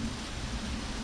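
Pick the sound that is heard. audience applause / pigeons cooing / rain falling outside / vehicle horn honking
rain falling outside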